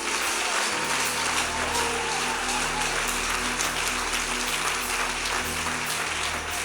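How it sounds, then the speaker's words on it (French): A church congregation claps and cheers in praise, a dense, sustained wash of applause that carries on steadily and fills the room, with a low musical hum beneath it. "Acclamons Jésus-Christ. Acclamons le Seigneur."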